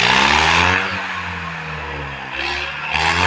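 A heavy Mahindra tractor engine revs loudly and close, its droning roar rising, easing off and surging again without any talk.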